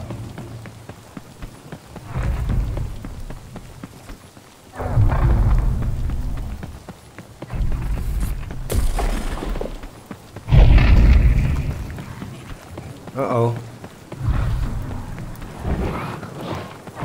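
Rain falls in The Cycle Frontier video game, a steady hiss swelling in loud gusty bursts with deep rumbling booms, close and full, with no talk over it.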